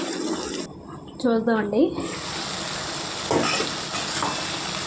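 Okra curry sizzling and frying in a pan, a steady close hiss throughout with a brief voice and a few stirring scrapes over it.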